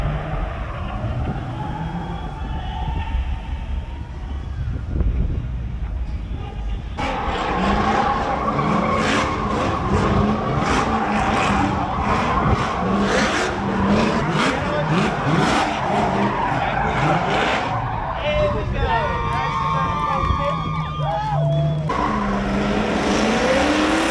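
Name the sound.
drifting cars with V8 and 2JZ engines, tires skidding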